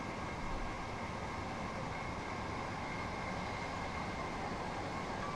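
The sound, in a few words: train locomotive in the video game Train Sim World 2020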